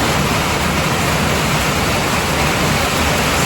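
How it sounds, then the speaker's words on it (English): Pouring rain at night on a ranch at around three in the morning: a loud, dense, unbroken roar of heavy rainfall, close and steady, with no voices. "So it is pouring rain."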